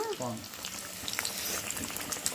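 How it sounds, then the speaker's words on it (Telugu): Masala aloo rolls deep frying in hot oil, a steady close crackling bubble with scattered pops, while a voice talks briefly over the start. "మన ఆయిల్ అయితే బాగా ఫ్రై అవుతా ఉన్నాయి"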